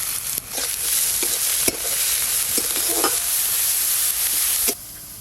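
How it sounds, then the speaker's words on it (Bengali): Chopped onion, ginger and salt fry in a little hot white oil in a wok, giving a steady loud sizzle with scattered crackles and stirring scrapes, cutting off near the end. "তেল হালকা গরম হয়ে গেছে, এবার এই পেঁয়াজ কুচিগুলো দিয়ে দেব।"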